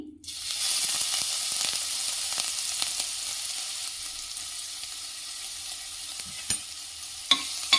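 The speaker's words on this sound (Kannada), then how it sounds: "ಈಗ ಇದಕ್ಕೆ ಶುಂಠಿ ಬೆಳ್ಳುಳ್ಳಿ ಇಟ್ಕೊಂಡಿರೋದನ್ನ ಹಾಕ್ಕೊಳ್ತಾ ಇದ್ದೀನಿ." Ginger garlic paste sizzling in hot coconut oil, a loud steady fry that starts abruptly and holds throughout, with a few sharp stirring clinks near the end.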